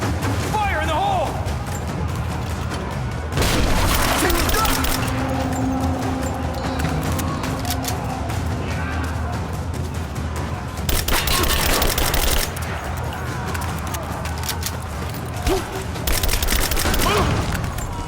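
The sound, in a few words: explosion in Rise of the Tomb Raider video game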